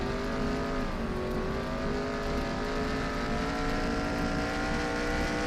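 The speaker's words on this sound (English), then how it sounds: "you can hear the cars like" Race car engines in an ARCA stock car racing video game roar continuously, a dense steady drone of revving motors with shifting pitch, loud and unbroken throughout.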